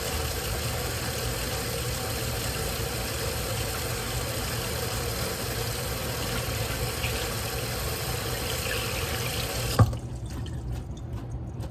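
Hot water runs steadily from a kitchen tap during hand washing, a constant rushing splash that continues for several seconds and then stops abruptly with a small clunk as the tap is turned off.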